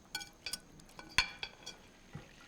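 Ingredients, with melted butter, being mixed in a bowl, giving a handful of sparse, light clinks and scrapes of a utensil against the bowl, close and quiet.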